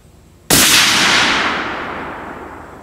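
A single loud gunshot from a Christensen Arms .300 Win Mag rifle, a sharp close crack after quiet, followed by a long fading echo rolling away over the range.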